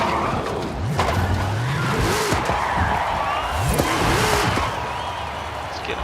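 A GMC Typhoon in Forza Horizon 5 spins its tires in place to heat them, engine revving and rising in pitch over a steady rumble with tire squeal, loud and continuous, with some talk over it.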